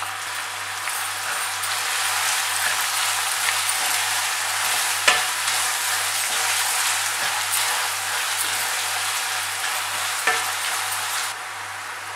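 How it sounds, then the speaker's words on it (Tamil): Chopped onions and curry leaves fry steadily in oil in a pan for a prawn pepper masala, a dense continuous sizzle with a few sharper clicks of stirring, close and even throughout. "நல்லா சாப் பண்ண வெங்காயம் சேர்க்குறேன், அதோட சேர்த்து கருவேப்பிலையும்"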